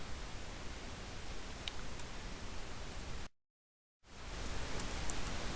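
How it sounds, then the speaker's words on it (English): A 22-channel noise vocoder outputs a dense, hissing broadband signal that plays steadily, breaks off into a short full silence, then resumes just as loud. "Now when I play the vocoded signal here, this is done for the 22 channels."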